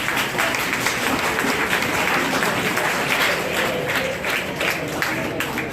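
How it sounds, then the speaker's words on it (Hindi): Loud, steady applause from the audience at a national journalism seminar on changing media at IGU in Rewari, continuous dense clapping throughout, with faint crowd murmur. "जोरदार तालियां।"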